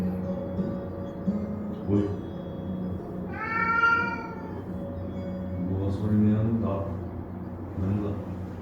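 A cat meows a few times in a cat cafe, one clear drawn-out meow standing out over a low background hum and quiet chatter.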